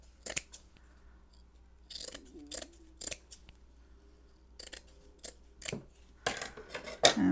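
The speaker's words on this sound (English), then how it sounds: "I'll cut off this salvage" Scissors snipping through fabric selvage while crafting, a series of crisp close cuts in bursts separated by quiet pauses, with a louder flurry of snips near the end.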